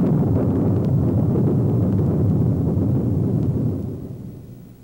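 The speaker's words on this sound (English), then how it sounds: "Lightning completes the picture with sound effects." A thunder sound effect for a stage lightning scene rolls as a dense, low rumble for about four seconds, then fades away, with no voices.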